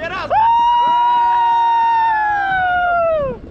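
A loud wailing siren sweeps up and holds a steady tone for about three seconds before trailing off, with faint voices beneath.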